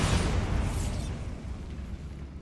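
Bombarda blasting spell in Hogwarts Legacy erupts as a single loud, close explosion, a sharp burst that decays into a rumbling roar over a couple of seconds with no voices.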